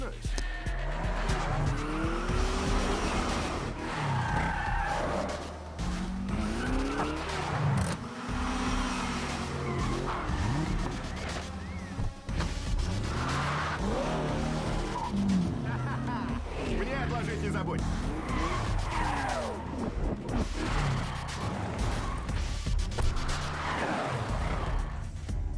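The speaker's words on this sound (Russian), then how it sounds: "дрифт золотистого БМВ по центру Марианских лазней" A golden BMW drifts through the town center of Mariánské Lázně in a film scene, engine revving and tires squealing in long repeated skids, loud and continuous, with a voice talking over it throughout.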